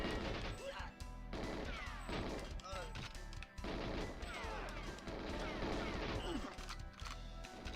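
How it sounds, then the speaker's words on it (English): Gunfire in GoldenEye 007 crackles in dense, loud bursts of rapid shots and impacts with crashing hits, sustained over several seconds amid constant game noise. "That guard shot his friend."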